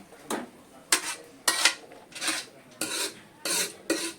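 Pav bhaji vegetables being stirred and mixed in a pan, with repeated scraping strokes of a spoon roughly every half second, close and moderately loud, no voices.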